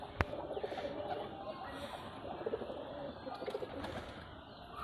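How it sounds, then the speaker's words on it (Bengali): A pair of red tasar baji pigeons from Rajshahi coo close by in low, rolling pulses, with a few faint chirps and a brief tap near the start. "এক জোড়া কবুতর দেখাচ্ছি আপনাদেরকে"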